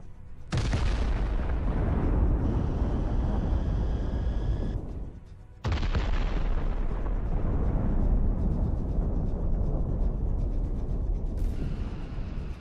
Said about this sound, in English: there is an incredibly violent explosion